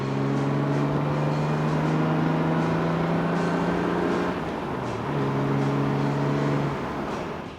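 The 1960s Jaguar E-Type roadster 77 RW, the first E-Type roadster, drives along with a steady, droning engine note that holds close and loud, dips briefly in pitch, then settles back before fading slightly.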